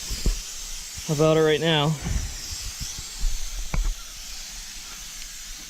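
A paint spray gun sprays primer onto a 1959 Ford F-100 fender in a steady, soft hiss running underneath throughout, while someone talks briefly over it.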